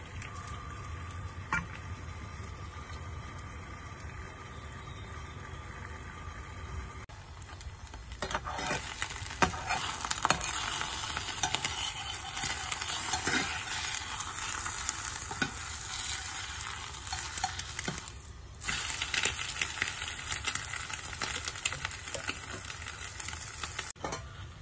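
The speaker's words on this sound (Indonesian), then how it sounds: "Untuk telurnya aku cuma goreng telur mata sapi aja." Sunny-side-up egg frying in a pan in a home kitchen, a steady close sizzle with crackling spatters that grows louder and busier partway through, with no talking.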